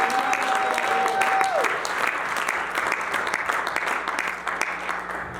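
A church congregation applauds steadily throughout, a dense wash of many hands clapping at even volume, with a brief tone fading out early on.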